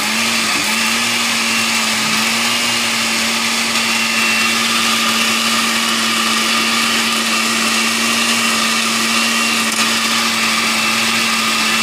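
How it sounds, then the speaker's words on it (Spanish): A blender runs steadily on onion and garlic for red pozole sauce, a loud continuous motor whine holding an even pitch after a brief start, with no talking. "ahora lo que voy a hacer es licuarlo"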